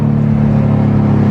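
A Subaru WRX fitted with an AWE Touring exhaust rumbles at steady idle, a loud, close, even low burble with a constant droning tone and no voices.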